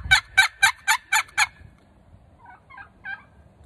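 A person vocally imitates the alarm call turkeys gave at an eagle perched above them: six loud, rapid, evenly spaced clucks, a pause, then three softer, lower clucks.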